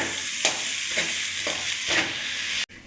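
Egg being stirred and fried in a pan for chicken fried rice: a steady loud sizzle with spatula scrapes about every half second, then cutting off abruptly near the end.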